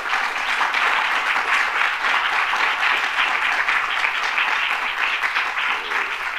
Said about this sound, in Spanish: un aplauso para Antonella